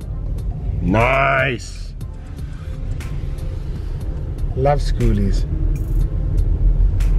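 A car rolls slowly around a crowded beach campground at Mission Beach, San Diego, with a low steady engine rumble under close voices, and a horn-like rising tone from a passing vehicle sounds briefly.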